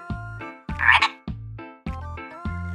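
Frogs croak in five separate bursts with short gaps between them, loud and close by, with no voices in between.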